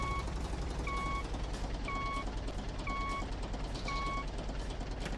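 Reversing alarm of a truck in the farming video game Professional Farmer 2014: a steady series of evenly spaced electronic beeps, moderately loud over a constant low engine hum.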